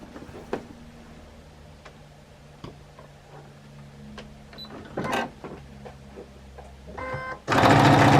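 A sewing machine stitching down a pocket on a quilted jelly roll tote bag, with faint, sparse ticks and clicks and low hum at first, then a louder rush of fast stitching at the very end.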